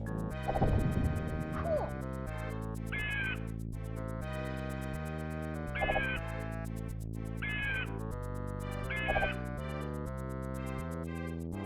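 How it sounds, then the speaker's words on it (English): A bird cawing in the SNES Lion King video game, several short repeated calls at about 3, 6, 7.5 and 9 seconds over continuous game music. "Noise of bird."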